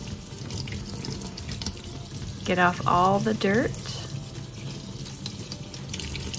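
Tap water runs over freshly harvested purslane being rinsed in a sink, a steady close splash throughout, with a person talking briefly over it midway.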